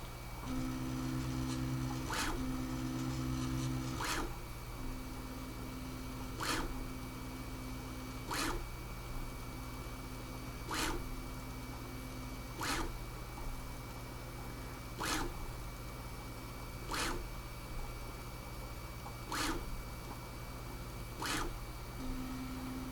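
A Bambu Lab A1 Mini 3D printer whirs steadily as its motors hum, with sharp clicks repeating about every two seconds as the head reverses along the X axis; quiet and close.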